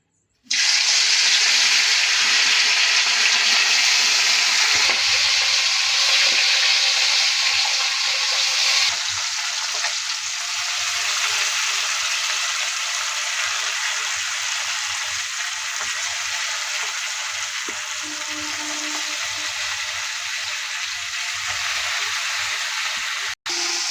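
Bata fish frying in hot oil in a kadai, a loud continuous sizzle that starts abruptly and holds steady throughout, with faint clinks now and then.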